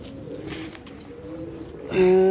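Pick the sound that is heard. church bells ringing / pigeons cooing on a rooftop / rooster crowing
pigeons cooing on a rooftop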